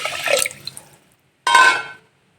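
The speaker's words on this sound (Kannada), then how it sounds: "ಇದೇ ಬಟ್ಲೆನ 3 ಬಟ್ಲು ನೀರು ಹಾಕ್ತೀನಿ ರೀ ಇದಕ್ಕೆ" Water is poured from a measuring cup into a cooking pot for lemon rice, heard as two separate splashing pours, the first longer and uneven, the second a brief steady gush, then quiet.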